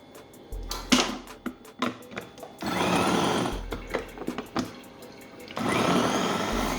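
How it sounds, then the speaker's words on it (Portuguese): A food processor finely chops vegetable ingredients for a stuffed eggplant filling, whirring in short pulses between longer continuous bursts of grinding. "Vou usar o processador para cortar bem fino todos os ingredientes."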